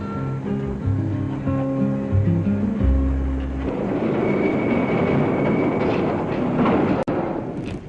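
A freight train rumbles along the rails with a low, heavy roar and scattered metallic clatter, preceded by deep horn-like tones at the start; a CNR (Canadian National Railways) train.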